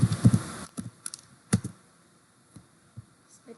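Keys tapped on a computer keyboard while entering a Linux command, a quick burst of close clicks at the start and then a few sparse, separate keystrokes.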